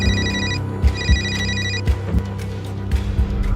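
A telephone rings on an outgoing call, with repeated electronic ring bursts sounding through the first couple of seconds over a low background hum and some muffled thumps.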